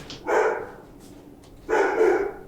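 A 10-month-old Labrador dog barks twice, each a loud, full bark with a short pause between, close to the listener, with no talk over it.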